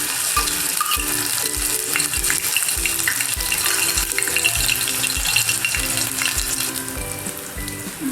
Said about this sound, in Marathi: तेल आपलं चांगलं तापलं आहे त्याच्यामध्ये एक चमचा आपण आलं लसूण पेस्ट टाकू